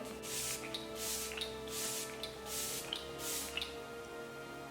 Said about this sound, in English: That was such a light spray.